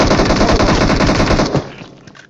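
Rapid automatic fire from an Uzi in a battle royale video game, a loud, close burst of fast rhythmic shots lasting about a second and a half before cutting off into a brief fading tail.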